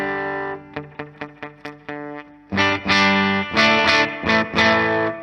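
Distorted electric guitar through a Carl Martin DC Drive overdrive pedal, first several clipped single hits, then louder sustained strummed chords with the boost engaged, loud and alone with no talking.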